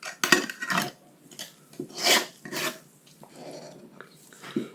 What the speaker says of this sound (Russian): Накрываем крышкой